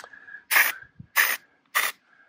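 An Atmosphere Aerosol haze spray can gives three short hissing bursts outdoors, each about a quarter second long and evenly spaced, loud and close, with a faint tone in the gaps.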